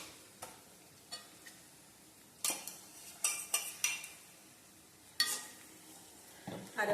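Crushed spice paste is added to clam meat and onions in a pan, giving soft stirring scrapes and spoon clicks against the pan in scattered bursts over a faint low sizzle.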